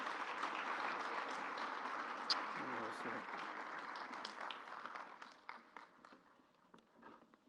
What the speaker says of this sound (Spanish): Un aplauso a las esposas de los pastores.